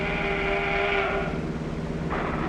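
A train on a railroad line in 1940s farm country sounds a long whistle over a steady, heavy rumble, heard from a moving bus, with no talking.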